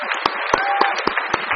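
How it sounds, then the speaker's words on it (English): Listeners at a talk applaud the speakers with a loose patter of claps, some individual hands sharp and close, while a voice briefly carries over them. "Let's give it a round of applause for those speakers again."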